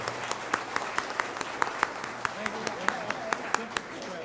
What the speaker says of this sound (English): another round of applause for Taylor Automotive